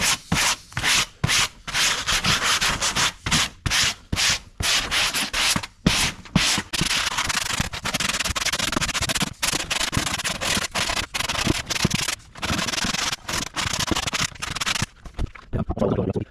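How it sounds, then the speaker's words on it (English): Wire brush scrubbing old headlining residue off the inside of a VY ute roof, harsh rapid back-and-forth scraping strokes in quick bursts with brief pauses, loud and close. "Just going to use the wire brush to clean"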